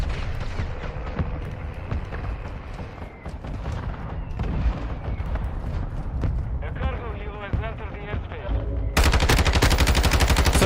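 Gunfire in the MW2 Beta video game rattles out in repeated bursts of sharp shots, close and loud, interrupted by heavier booms, ending in a dense, sustained stretch of rapid fire.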